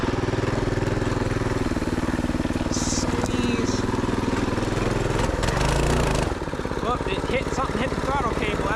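A 224cc B200R full-suspension mini bike ridden through a suburb, its small engine droning steadily and close throughout, dipping slightly toward the end while a voice talks over it.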